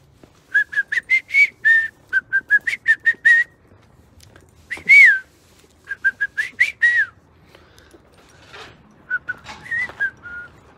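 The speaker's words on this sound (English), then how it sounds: "Oh, Tyler landing in with a random whistle, let's go." Bright, tuneful whistling in short repeated bursts and rising-falling phrases, clear and fairly close, with brief pauses between runs and no talking.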